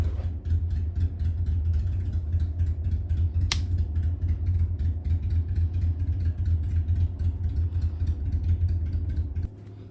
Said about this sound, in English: He sat there forever just revving his engine.